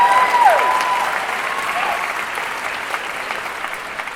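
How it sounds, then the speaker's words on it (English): Loud crowd applause from a Comic Con audience at a Star Trek Discovery panel, a full steady roar of clapping that tapers slightly toward the end, with a brief tonal whistle near the start. "That deserves applause"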